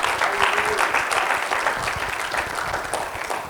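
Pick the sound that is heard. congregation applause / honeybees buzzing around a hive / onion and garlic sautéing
congregation applause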